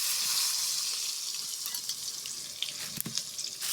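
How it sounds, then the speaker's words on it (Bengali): Brinjal pieces seasoned with salt and turmeric fry in hot oil with a soft, steady sizzle, cooked over a wood-fired clay stove, with a brief clatter near the end. "বেগুনগুলো আগে ভেজে নেব।"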